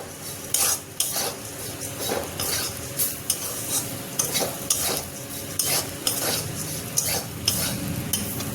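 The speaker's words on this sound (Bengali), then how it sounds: "ওস্টটা একটু ভেজে নেব সবজির সাথে" Oats frying with vegetables in a pan for oats khichdi, a steady low sizzle under repeated clinks and scrapes of a spoon stirring against the pan, close and moderately loud, no talking.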